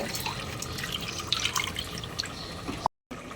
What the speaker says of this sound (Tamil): ஒரு லிட்டர் அளவு தண்ணி ஊற்றிக்கோங்க